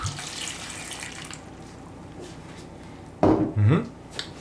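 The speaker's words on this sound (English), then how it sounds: "And a little bit of water, about half a liter for this." Water is poured into a pot of chopped, salted tomatoes, making a short, loud splashing gush near the end after a quieter kitchen background.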